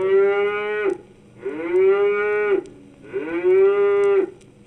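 Holstein cows on a dairy farm give three long, loud, close moos in succession, each rising then holding steady before cutting off, with no voices.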